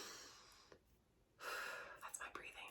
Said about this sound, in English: That's my breathing.